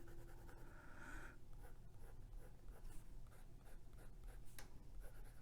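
A Jinhao 992 fountain pen writing on paper, a soft close scratching that comes in short strokes with brief pauses, quiet and without any voice.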